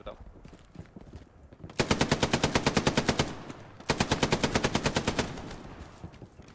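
Rapid machine-gun fire from the World War II shooter Hell Let Loose comes in two loud, sustained bursts of evenly spaced shots with a short pause between them. Fainter gunfire and voices sit in the background.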